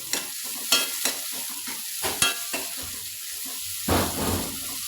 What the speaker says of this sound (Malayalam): എന്നിട്ട് നല്ലപോലെ ഒന്ന് ഇളക്കാം.